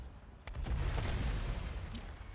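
A cannon in World of Warcraft booms once with a sharp crack, then a broad rolling rumble lingers, with a faint pop later on.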